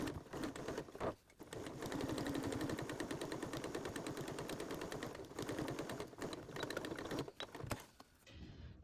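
A sewing machine stitches around a fabric hot pot lid holder with a short stitch, running in a steady rapid mechanical patter for most of the stretch, with brief pauses near the start and end.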